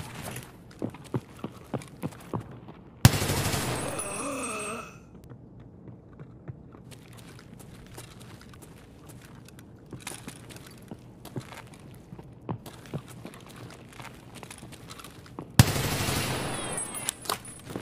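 Quick, sharp G36 rifle shots crack from a first-person view in Escape From Tarkov: scattered single rounds and short bursts across a quiet stretch, broken by two louder sustained rushes of noise.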